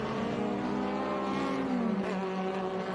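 Loud, continuous engine roar of saloon race cars passing close by at Laguna Seca during the Monterey Reunion, pitch rising and falling as they rev and speed past.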